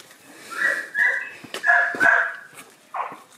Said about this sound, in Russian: Только теперь будет гавкать и проситься выйти.